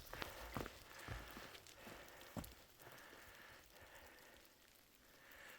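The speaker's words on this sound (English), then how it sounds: "it's raining again" Rain patters steadily on the surroundings during a wet hike through a burned area, a soft continuous hiss with a few sharper drops and thumps, faint and close.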